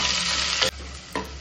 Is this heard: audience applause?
no